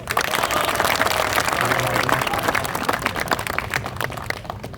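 An outdoor crowd at a pharmacy festival street play claps and applauds, a dense, steady patter of many hands that thins out toward the end.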